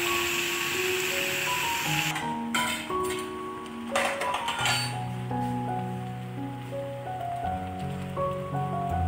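Macaroni tipped into a frying pan with half-boiled vegetables for chicken macaroni, giving a patter of small clinks and rattles against the pan, steady and close, with no talking.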